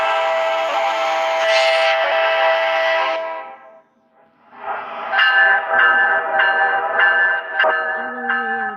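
Video game train sounding a loud horn with multiple tones, going quiet briefly, then blaring again in repeated blasts as it passes a level crossing.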